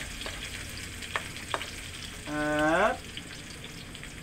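Onion hits a hot pan and sautés in a short burst of sizzling that lasts under a second, followed by quieter crackle. A few faint taps come first and a brief spoken word is heard.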